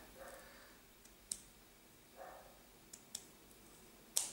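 Scissors cutting a material in half: a handful of faint, brief snips spaced irregularly over a few seconds, with quiet pauses between them.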